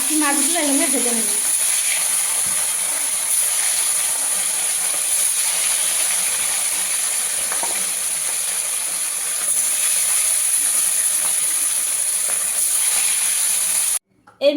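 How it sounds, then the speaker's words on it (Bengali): Katla fish pieces fry in hot oil, a steady, even hiss and sizzle held throughout at close range, cutting off abruptly near the end. "বাকি মাছগুলো এখানে ভেজে নেব"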